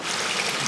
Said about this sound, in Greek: Από εκεί βγαίνει το νερό και περνάει από εδώ.